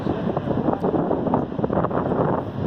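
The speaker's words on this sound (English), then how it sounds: "And the wind's just kicked up" Strong wind roaring steadily along the Lincoln City coast on a day of 20-foot surf, a continuous broadband rush buffeting the microphone with no voices over it.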